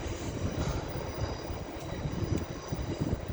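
Train passing through Leeds station on the East Coast Main Line, a steady rumbling rush of wheels and carriages with faint metallic squeal, loud and continuous throughout with no talking.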